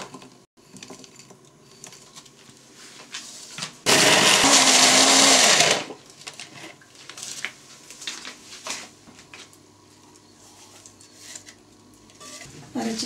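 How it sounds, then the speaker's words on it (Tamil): Mixer grinder blending soaked ingredients together with jaggery, roaring loud and close for about two seconds before stopping, with quieter kitchen clatter and handling noises before and after. "தண்ணியை போட்டு அதை இது சாஃப்ட் பண்ணி அரைக்கணும்"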